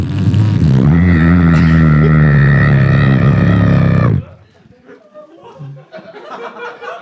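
A voice imitates a droning lawnmower engine with a whirring electric can opener layered on top, loud and sustained for about four seconds. Laughter and chatter follow.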